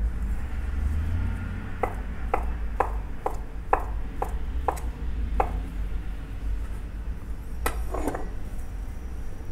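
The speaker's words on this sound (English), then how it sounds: "Dice it up like this" A knife dices Spam on a cutting board, with a run of crisp, evenly paced chops at close range followed by a pause and two more quick cuts over a low background hum.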